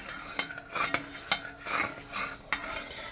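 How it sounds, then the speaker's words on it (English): A spoon stirs salt into warm homemade marshmallow mixture in a pot, giving irregular scraping and clinking strokes against the side, close and moderately loud, with no talking. "we're gonna add a ½ teaspoon of salt and stir that real well"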